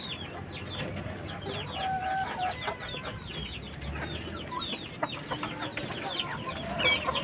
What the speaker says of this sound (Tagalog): Ito pa yung isa nating inahin na kanawayon.